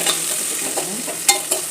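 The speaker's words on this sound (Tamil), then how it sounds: "நல்லா வதக்கிட்டுக்கிறேன்." Onions and green chillies sautéing in a home-cooking pan for a fish curry: a soft steady sizzle with a few sharp scraping clicks of a spoon stirring, close and fairly loud.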